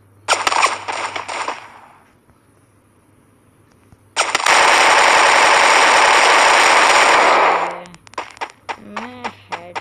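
Automatic gunfire from the Free Fire battle royale mobile game comes in loud, dense bursts: one short volley, a pause, then a long sustained stream, followed by brief voice-like sounds at the end.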